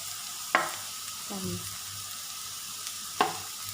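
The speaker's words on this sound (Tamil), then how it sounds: "நல்லா வெஜிடபிள்ஸ் நல்லா வதங்கிடுச்சு." Vegetables sautéing in a pan for veg noodles, a steady low sizzle broken by two sharp spatula scrapes and a brief clatter in between, close by and without speech.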